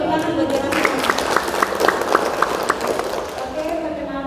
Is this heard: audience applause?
yes